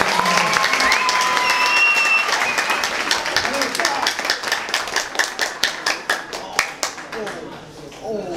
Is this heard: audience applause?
yes